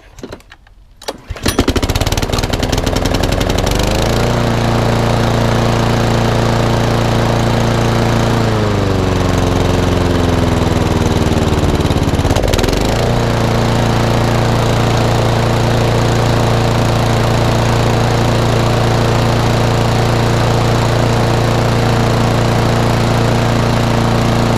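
A Mountfield SP536ES lawn mower with a rattle at the front pulls into life after a brief sputter, then runs loud and steady close by. The engine pitch dips and recovers twice before settling into a constant drone, with no talking.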